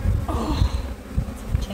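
Honeybees buzz during a hive inspection, a dense close low drone with fluctuating intensity, steady throughout the short stretch.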